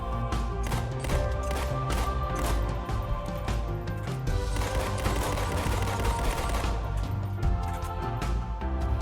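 Rapid pistol fire from the MK50 Sidekick in a Halo: Reach mod, dense fast bursts of sharp shots repeating continuously at close range with little pause.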